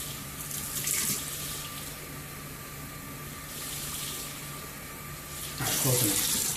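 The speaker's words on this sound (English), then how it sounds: "I'm going to add a little bit of water, just half water, so right until it reaches the 1 gallon mark" Tap water runs steadily into a home-brew fermenter being topped up to the one-gallon mark, a continuous hiss that swells louder near the end as the flow picks up.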